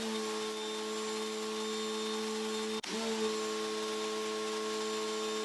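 Pressure washer spraying through a Northern Tool 3.0 nozzle, a steady loud droning hiss with strong hum tones, briefly cutting out near the middle and then resuming unchanged, no voices.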